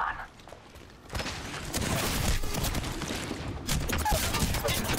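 Video game gunfire comes as sustained, dense volleys of shots that build up and stay loud for most of the stretch after a short quieter start.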